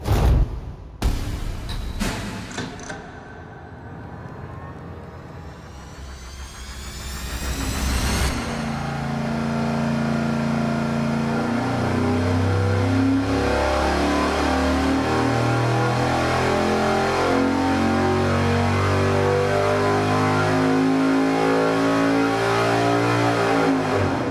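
A gasoline V8 on an engine dyno, tuned to 35 degrees total ignition advance, idles and blips, then roars through a long loud wide-open pull that climbs steadily in pitch up to about 6,700 RPM.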